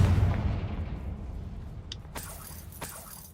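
The Confringo blasting spell in the Hogwarts Legacy video game, a booming explosion that opens loud and decays into a rumbling tail, with a couple of crisp debris cracks late in the clip and no voices.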